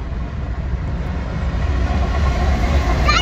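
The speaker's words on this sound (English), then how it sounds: "That train was through too!" A Norfolk Southern freight train rolls past near Jac Cate Road in Ooltewah, Tennessee, a steady close rumble of rail cars that grows slightly louder over the few seconds, with a faint squeal near the end.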